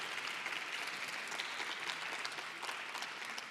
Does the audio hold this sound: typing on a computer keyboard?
no